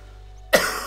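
A single sharp, close cough breaks a near-silent background, followed by the start of another.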